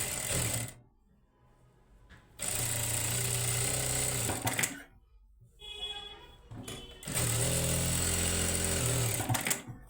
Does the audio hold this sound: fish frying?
no